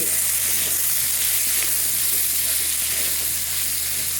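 Potatoes and peas fry in a pan for a vegetable pulao, giving a steady, even sizzle with faint stirring that runs unbroken throughout, with no voices.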